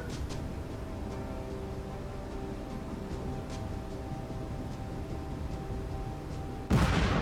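Gunfire and an explosion in the video game Afghanistan '11, a steady rumble of distant combat with scattered faint pops, ending in a sudden loud close blast.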